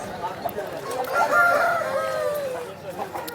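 A rooster crows once at a busy weekly chicken market in Vijayawada, a long rising and falling call in the middle, with market chatter and clucking fowl around it.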